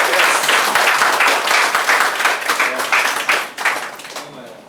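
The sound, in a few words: audience applause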